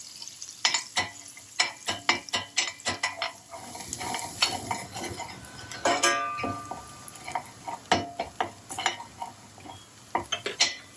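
Garlic and butter being cooked in a pan for creamy prawn pasta, with repeated sharp clinks and scrapes of a utensil against the pan over a soft, steady sizzle, fairly close and without talk.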